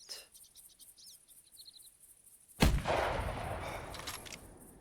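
A single loud 9.3 rifle shot fired at an elk in the hunting game theHunter Classic cracks out midway, rolling into a long fading echo after a quiet stretch of crickets and insects chirping.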